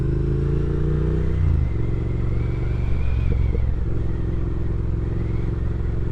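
A Triumph Speed Twin motorcycle engine runs steadily on new Michelin Road 6 tyres, a loud continuous mid-pitched drone with a gear-change dip in pitch partway through, heard close and alone.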